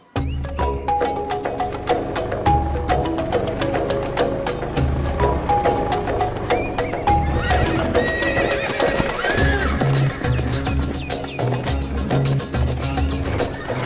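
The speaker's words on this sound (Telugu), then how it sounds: "ఇన్ని గుర్రాలు?" Several horses whinny loudly over a steady clip-clop of hooves, the neighs rising repeatedly over a continuous, busy trotting rhythm close by.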